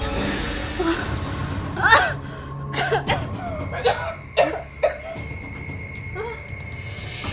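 Several harsh coughs come in a ragged series, close by, with strained breathing between them.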